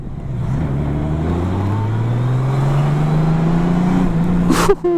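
A 2019 Honda Goldwing Tour DCT motorcycle overtaking on a road, its engine drone climbing steadily in pitch as it accelerates, loud and close with steady road and wind noise and a short thump near the end.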